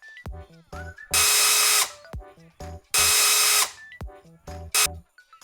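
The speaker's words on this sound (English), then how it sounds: "Electric screwdriver." An electric screwdriver whirs in two long bursts and one short one, loud and close, with clicks and mechanical handling noises in the gaps between the runs.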